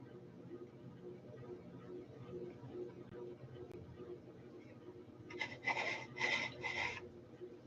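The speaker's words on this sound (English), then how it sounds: "It's like I'm gonna have to sandpaper." Sandpaper rubbing on a piece of rubber, heard as a few short rasping strokes in quick succession near the end, faint and close over a quiet room hum.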